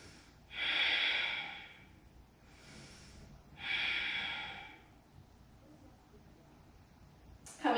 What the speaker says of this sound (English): Breathe in here.